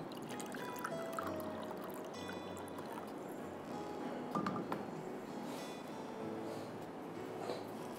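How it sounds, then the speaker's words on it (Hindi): Half a cup of water is poured onto a quarter kilo of sugar in a pan for making syrup, a soft, steady trickle that stays faint against quiet kitchen background. "1 पाव चीनी में मैं डालूँगी आधा कप पानी"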